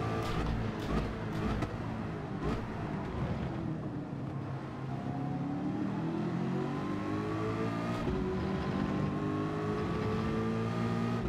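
Race car engines in a Gran Turismo race, with a Porsche ahead, roaring continuously and rising in pitch as they accelerate, with brief harsh bursts early on.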